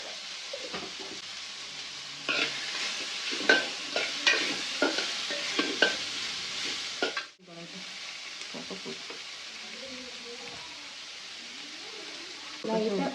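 Mango curry sautéing in a pan is stirred with a spatula, bringing rhythmic scraping strokes over a constant sizzle; the stirring stops partway, then a softer sizzle continues while a voice talks.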